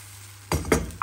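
Yeast pancake batter, a little under a ladleful, hits an oiled frying pan with a sudden close sizzle that swells and crackles, followed by a brief clink of utensil against the pan.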